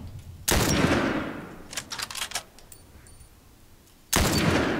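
Gunshots in The Last of Us: two loud, sharp blasts with rolling echoes, the second near the end, and a quick burst of smaller clatters between them in an otherwise quiet scene.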